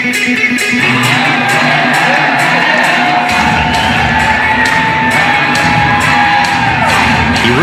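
An audience at the 1992 Arnold Classic bodybuilding contest screams, whoops and cheers in a loud, continuous roar that fills the hall throughout.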